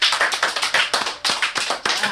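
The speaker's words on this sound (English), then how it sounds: "Clap it out." A small group claps together at the close of a recorded session, a loud, dense burst of steady applause that rolls on without a break.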